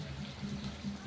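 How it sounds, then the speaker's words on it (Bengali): Water is poured into a pan of cooked-down masala for fish curry, a soft, quiet trickle and gurgle lasting about a second. "আমার মশলা কষা হয়ে গেছে, এবার আমি"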